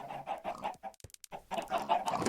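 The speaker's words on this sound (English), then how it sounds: "I have pigs in and chickens. All three kinds of chickens." Chickens clucking inside a barn in Minecraft, a steady run of close, repeated fowl clucks that pauses briefly and then picks up again, fairly loud with no talk over it.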